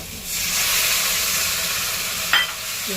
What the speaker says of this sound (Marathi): म्हणजे हा किसून घेतला चांगलं तेल सुटेपर्यंत मस्त परतून घेऊया